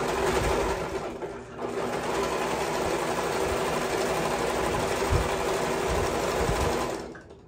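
A sewing machine stitches cotton fabric for a maxi dress in a fast, steady mechanical chatter, close and loud for about seven seconds before stopping.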